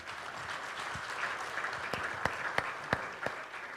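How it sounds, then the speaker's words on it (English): Applause for guests at the end of a mobile cross-border remittances conference panel: a soft, steady patter of clapping from a moderate crowd, with a few sharper close claps standing out toward the end. "maybe we could all give them a round of applause."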